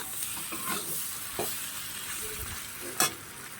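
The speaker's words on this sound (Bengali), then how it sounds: "আমি এটাকে ভালো করে নাড়াচাড়া দিয়ে একটু পাতিয়ে পাতিয়ে দিয়ে ভাজতে হবে" Flat beans and shrimp frying in a pan: a steady, close sizzle with a few scraping stirs, one sharper clack near the end, and no talking.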